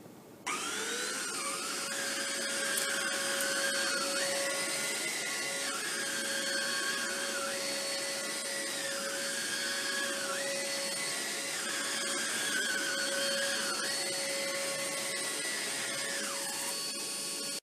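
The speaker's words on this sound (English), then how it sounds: "we took the unit and put it on a very deep pile carpet that we have here, and we found that it actually ran okay." A Hoover ONEPWR Evolve cordless vacuum runs nonstop on deep pile carpet, a loud, steady motor whine that rises and dips in pitch in regular steps as it is pushed back and forth.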